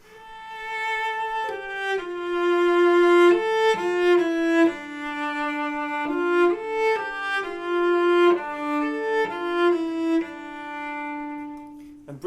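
Solo cello plays a slow, mournful folk tune from Britten's Third Cello Suite, a sustained singing melody with gliding phrases and occasional double stops, clear and close with no voices.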